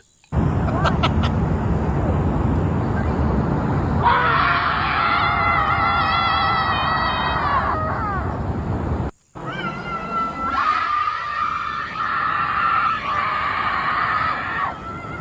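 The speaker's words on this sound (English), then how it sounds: "they are partaking in their anti-Donald Trump morning screaming session" A woman screams angrily at a protest, long sustained shrill cries in two loud bursts separated by a brief gap, over constant crowd noise.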